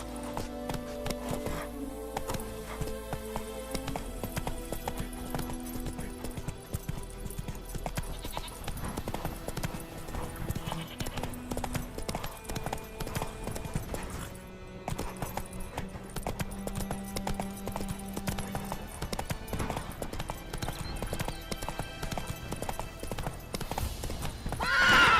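A horse gallops in the video game The Witcher 3, steady clip-clop hoofbeats pounding throughout, with a whinny and scattered sheep bleats over a layer of game music.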